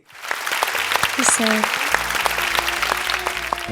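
A studio audience at a televised singing contest claps steadily for a young singer, a sustained wash of applause with some background music tones underneath.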